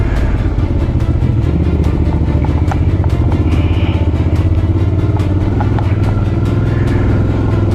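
A motorcycle engine is ridden off-road on a trail climb, a loud, continuous, rough engine drone up close with clattering and rumbling throughout.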